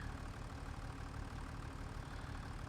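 A tractor engine idles in Farming Simulator 25, giving a steady, even mechanical drone with a low rumble that holds unchanged throughout, with no voices over it.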